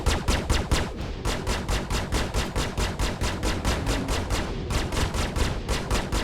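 Rapid spaceship cannon fire blasts at an enemy ship in a space combat video game, a loud, regular stream of punchy shots with one brief pause before resuming.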